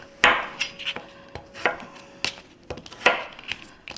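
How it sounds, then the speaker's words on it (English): Knife chopping butternut squash into cubes on a cutting board, a run of sharp, uneven chops close by with no talking. "we're just going to cut them in cubes like that"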